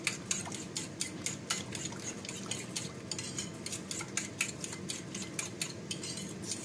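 Egg mixture whisked in a bowl with glass vermicelli soaking nearby, a quiet rapid rhythmic tapping and clinking of utensil against bowl, steady and fairly faint, with no talking.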